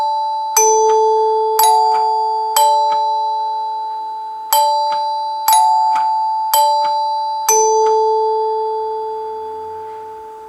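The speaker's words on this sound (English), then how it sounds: "So let's go ahead and ring it" NuTone K40 Symphonic chord door chime rung several times: clear, ringing two-tone bell strikes at a steady pace, each chord decaying slowly and overlapping the next, close and alone with no voices.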